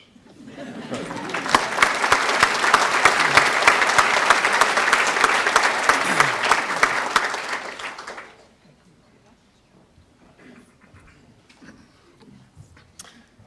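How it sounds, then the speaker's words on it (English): A large audience at a Cornucopia 2015 awards event in Lubbock applauds recipients from ServPro of Southwest Lubbock: dense, sustained clapping with a few laughs and chatter, swelling then cutting off after about eight seconds, leaving faint room noise. "Your applause, please, for ServPro of Southwest Lubbock"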